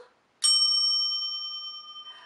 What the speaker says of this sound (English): what you'll need is a bell